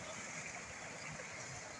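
Water from a solar-powered pump gushes steadily into a wheat field irrigation channel, a continuous close rushing and gurgling flow with no break.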